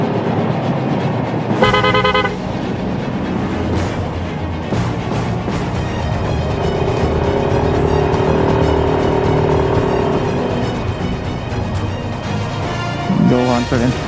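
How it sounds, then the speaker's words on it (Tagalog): Motorcycle horn honking on curves of a mountain road in Batangas, with a short toot early on and another near the end over steady engine and wind noise. "Need natin bumusina sa mga ganyang kantuan."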